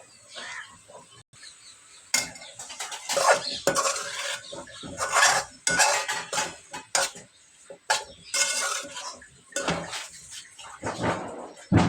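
Potato pieces stirred into masala in a pan for potato kurma, with repeated clanks and scrapes of a spoon against the pan in an irregular rhythm, fairly close.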